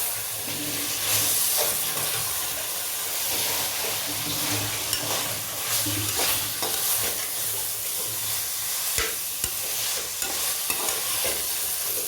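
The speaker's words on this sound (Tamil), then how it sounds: "காளான் நல்லா வதங்கட்டும்" Mushrooms sautéing in a hot pan for a mushroom biryani, a continuous close sizzle and hiss broken by the scrape and clatter of a stirring spoon, fairly loud and steady throughout with no speech.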